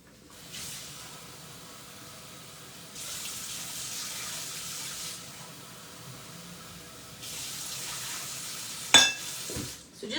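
Water runs from a kitchen tap into a measuring vessel while oatmeal with vegetables cooks over a medium-low flame, a steady rushing stream with a couple of surges and a clunk near the end.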